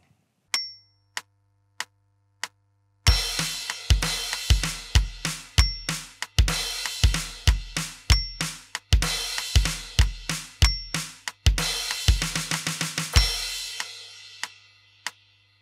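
A drum kit playing the verse groove of a song, starting with sparse count-in ticks before a loud driving beat of kick, snare and bright cymbals, ending with a few lone ticks.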